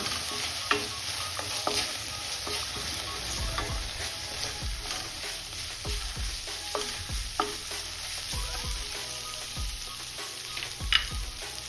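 Fresh curry leaves hit hot masala in a pan, giving a steady soft sizzle with scattered stirring clatters throughout, no voices.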